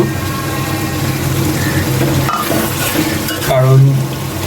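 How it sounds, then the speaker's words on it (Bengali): Beef and potatoes frying in oil in a pot, a loud continuous sizzle with stirring scrapes close by and a brief bubbling swell near the end, with no voices. "তাই আমি একটু বেশি করেই কষায় নিচ্ছি।"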